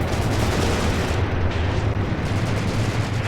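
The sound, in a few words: artillery fire in the video game Graviteam Tactics: Mius-Front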